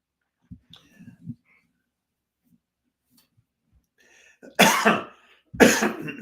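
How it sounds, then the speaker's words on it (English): Two loud, close coughs come near the end after a few quiet throat sounds and long stretches of near silence. "A little bit of a cough hanging on here."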